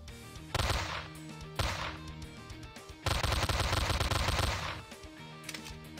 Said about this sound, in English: Man, it's so hard to shoot things here.